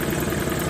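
A car engine idles steadily and evenly during an ignition coil check, a continuous low hum with faint vibration close by, with no voices.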